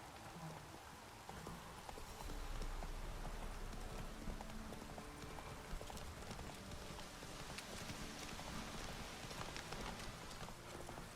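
Roach, the horse in The Witcher 3, gallops in a quick, dense drumming of hooves. The hoofbeats blend into a steady, rain-like wash of game ambience.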